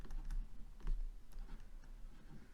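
Code being typed on a computer keyboard: a quick, uneven run of close, soft key clicks and taps over faint room noise, with no voices.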